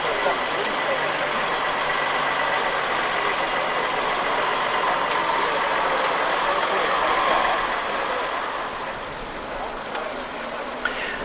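A vintage ex-Swiss Army Berna 2VM vehicle on the Trans Pennine road run: a steady, loud engine rumble running throughout, with a commentator speaking over it.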